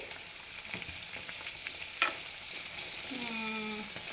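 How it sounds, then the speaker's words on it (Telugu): Ajwain leaf bajji fritters frying in oil give a soft, steady sizzle and crackle at close range, with a brief clatter midway. "ఇవైతే ఫ్రై అవుతున్నాయి చూద్దాం మరి"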